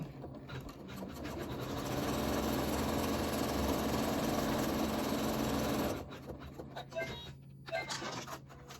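An embroidery machine tacks down fabric for a mug rug, its needle drive humming and rattling continuously for about six seconds before stopping, followed by fabric handling and light clicks.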